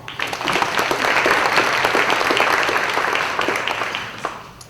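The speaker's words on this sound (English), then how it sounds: "let's give these guys another round of applause" An audience at a Walton County community event breaks into applause, a loud, full wash of clapping that builds quickly, holds evenly and tapers near the end.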